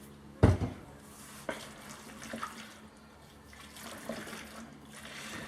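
Apple cider vinegar, about one and a half teaspoons, splashes into a bowl of grilled red potato salad with a brief thud at the start, then a soft, continuous liquid trickle and faint rustle, close by with no talking.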